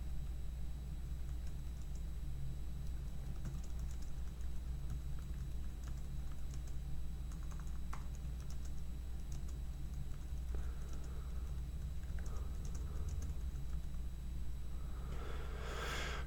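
Someone types an answer into a quiz on a computer keyboard, producing soft, quick keystrokes in uneven bursts under a steady low hum and background hiss.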